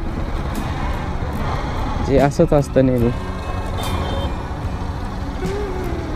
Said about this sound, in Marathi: हे आहे आपलं नेहमीचं वाघुरीचं ट्रॅफिक